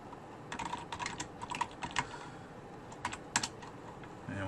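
Quick, light keystrokes on a computer keyboard come in short irregular clusters, close and fairly quiet, with no voice over them.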